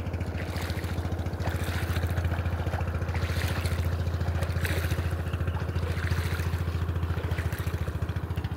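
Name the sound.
small boat loaded with guavas or papayas approaching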